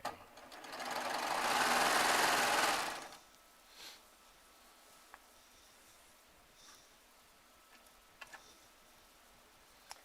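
A Baby Lock Triumph serger stitches through fabric in one loud, steady whir of about three seconds. It then stops, leaving faint clicks and small handling noises in a quiet room.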